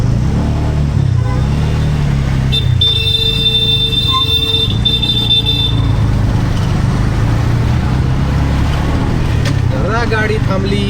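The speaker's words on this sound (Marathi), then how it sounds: "गाडी थांबली की लगेच पॉम पॉम पॉम पॉम पॉम पॉम चालू." A car horn sounds in a sustained blast for a few seconds behind a car stopped in traffic, over a constant low engine and road rumble.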